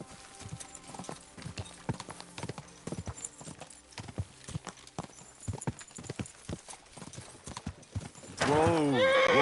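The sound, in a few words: horses galloping and neighing in a video game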